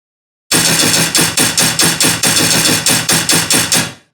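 A rapid burst of about a dozen punchy, heavily processed layered synthetic gunshot hits with added transient fires in a steady rhythm, loud and close, then stops.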